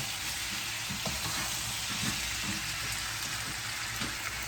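Pork binagoongan frying in a pan with a dense, continuous crackling sizzle, close and steady throughout, with faint stirring scrapes underneath and no talking.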